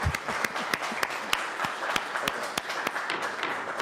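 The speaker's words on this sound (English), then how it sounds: "can we just give the council a round of applause for hearing us and for being with us tonight?" At a Ways and Means committee meeting, a round of applause for the council comes as sparse, distinct claps with a regular rhythm, like a few people clapping slowly.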